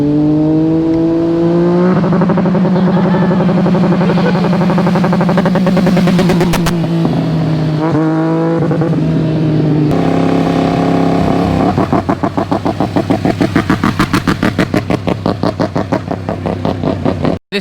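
Motorcycle engine held at wide open throttle against a rev limiter, loud and close, a steady high drone that shifts pitch, then a rapid stuttering limiter cut pattern through the final seconds.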